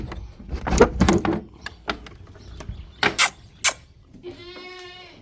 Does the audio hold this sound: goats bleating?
yes